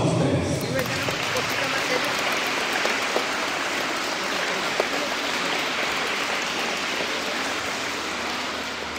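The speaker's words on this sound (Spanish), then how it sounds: "Un fuerte aplauso para todos ustedes." Sustained applause from students, young children and parents at a school sports anniversary event, a dense, steady clapping wash lasting the whole stretch at an even level.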